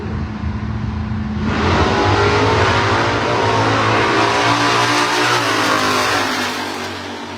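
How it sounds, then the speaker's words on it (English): Drag racing car launching at a drag strip, its engine building from a rumble into a loud, sustained high-revving roar that climbs through the gears and then begins to fade as it pulls away down the track. "Doug Wright, left lane, one of the favorite cars to watch in this class as well"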